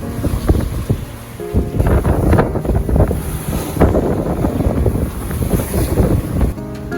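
Strong wind of about 22 knots buffets the microphone in rough gusts aboard a sailboat on the Aegean, with water rushing and slapping against the moving hull throughout.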